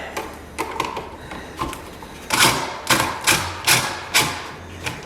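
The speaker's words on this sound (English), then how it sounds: "I just use my impact" A cordless impact driver hammers screws tight in an off-grid cabin's electrical wiring, giving close, loud bursts of rapid rattling impacts separated by short pauses.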